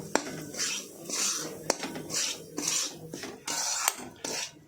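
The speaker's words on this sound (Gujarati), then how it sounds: "આપણે તેમાં આ રીતે ઘઉંનો લોટ નાખી દઈશું અંદર તેને આપણે ધીમા તાપ ઉપર શેકવાનું છે" Coarse wheat flour roasting in ghee over low heat, a spoon scraping and stirring around a metal pan in repeated rasping strokes with small clinks, close and fairly quiet.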